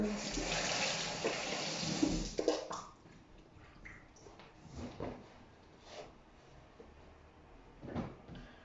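Water runs from a kitchen tap during handwashing. It is steady and fairly close for the first two and a half seconds, then stops, and only faint handling noises and small knocks follow.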